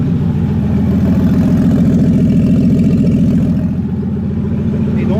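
BMW M57 diesel engine running with no exhaust fitted, a loud, close, rapid raw clatter and thrum at steady idle.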